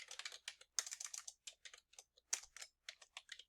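Quick bursts of typing on a computer keyboard, crisp close key clicks coming in uneven clusters with short pauses between them, alone in an otherwise quiet room.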